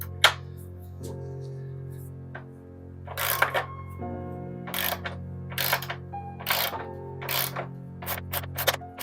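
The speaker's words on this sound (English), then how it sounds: "I'm going to attach it to this, and we're going to go ahead and just tighten this thing" A Shimano SM-BBR60 bottom bracket tool turns a bicycle bottom bracket, making sharp metallic clicks and ratcheting bursts in uneven clusters against a quiet, humming background.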